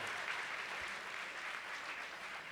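A round of applause for major donors at a charity gala sounds as continuous, even clapping from an audience, heard from a distance and fairly faint throughout.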